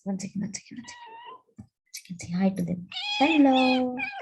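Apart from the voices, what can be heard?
cat meowing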